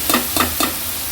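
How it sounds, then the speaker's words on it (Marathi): Basmati rice and cumin seeds fry in ghee in a pan, with three short bursts of stirring over a steady close sizzle. "जिरं तुपावर छान परतून झालं की आपण हे बासमती तांदूळ जे धुवून ठेवलेले आणि हे बघा गाळून घेतलेले हे मी घालते"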